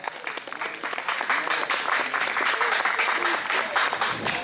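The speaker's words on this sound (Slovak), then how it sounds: "Potlesk!" An audience at a 2013 open-air folk festival concert in Mikova, Slovakia, breaks into sustained, dense clapping that holds steady and loud throughout.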